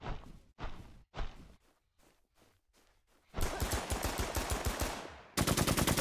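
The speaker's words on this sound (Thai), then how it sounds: "ปืนนี้ลั่นที่สามนัด" Gunfire in the Warzone video game, from a burst-fire gun: a few sharp separate shots at first, then longer rapid volleys of close, loud reports that continue to the end.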